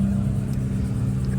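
A car at a car show 2-step competition gives a short, close burst of engine rumble and whir, a steady low drone lasting just over a second.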